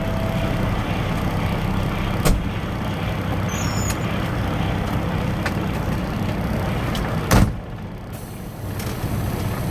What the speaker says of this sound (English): Hang on, I gotta shut the door.